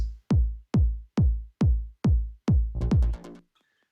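Six deep, booming synthesized kick drum hits from a Roland JD-Xi in a steady rhythm, followed by a quicker cluster of hits that fades out.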